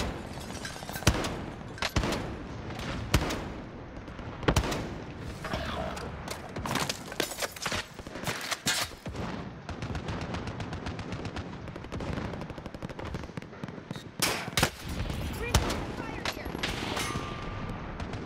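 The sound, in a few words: gunfire in the video game Call of Duty Warzone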